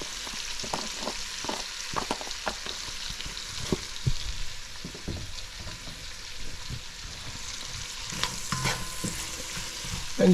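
Eggplant sautés in a pan with a pinch of red pepper flakes, a steady close sizzle broken by frequent small pops and crackles that runs the whole time.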